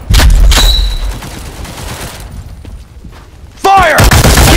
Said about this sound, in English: Fire! Keep the pin! Suppressive fire!